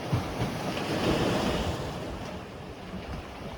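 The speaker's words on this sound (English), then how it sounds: "there were some big waves coming in" Big sea waves surging and breaking along the rocky Santorini coastline, a steady loud wash of surf with gusting wind buffeting the microphone throughout, no voices.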